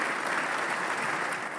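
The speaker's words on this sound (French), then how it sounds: "avec un tonnerre d'applaudissements à son arrivée" Thunderous applause in the French Senate greets Michel Barnier's arrival, a dense, steady clapping from a full chamber that holds at even loudness throughout with no voices standing out.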